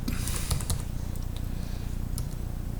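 Typing on a computer keyboard while a strong password is entered: quick, uneven key clicks rattle close by for about three seconds, with a few sharper taps among them.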